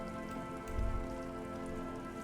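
Steady winter rain in the video game Disco Elysium patters continuously and softly on surfaces, with a brief low swell partway through and no voices.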